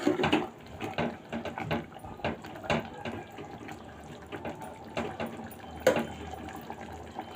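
Water poured into a pressure cooker of gongura mutton curry in a home kitchen, a soft uneven splashing and trickling with several small bursts, fairly faint and close.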